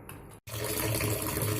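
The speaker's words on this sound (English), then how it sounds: "Now you need to wash your hot noodle with a cold water" Cold tap water gushes steadily over hot cooked noodles for chowmein in a home kitchen, a dense continuous rush of splashing water after a brief pause.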